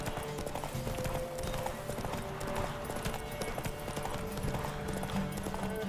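Steady clip-clop of horse hooves galloping in a rhythmic pattern in The Witcher 3: Wild Hunt, with a faint whinny and background game sounds, fairly quiet and continuous.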